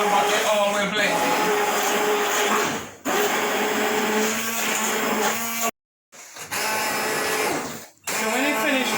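A kitchen blender whirs loudly while blending spinach and cabbage, in long near continuous runs broken by a few brief stops.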